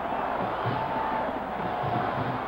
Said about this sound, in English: It is a sellout crowd in Miami.